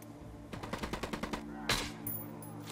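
A quick string of about ten rhythmic gunshots in Ghost Recon Wildlands rings out at moderate distance, followed by one louder, sharper shot and a fading echo.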